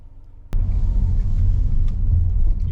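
A 2023 Nissan Almera rolls at about 38 km/h with the foot off the accelerator. A sharp click gives way to a steady, close low rumble of road and engine noise.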